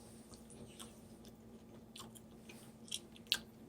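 Quiet, close chewing of a sugar snap and teriyaki pork loin stir fry, soft wet mouth sounds with a couple of brief crisp bites.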